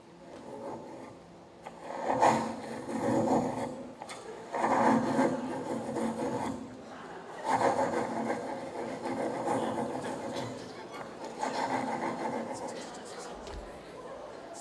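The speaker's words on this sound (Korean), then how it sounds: "사실 방금 전의 소리는 얼린 알로에를 자른" Crunchy, crackling cutting of frozen aloe, with repeated slicing strokes and scraping bursts, close up and fairly loud.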